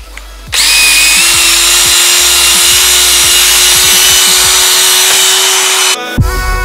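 A power drill spins a foam polishing pad on a faded plastic headlight lens, a steady loud whine for about five and a half seconds, then stops abruptly.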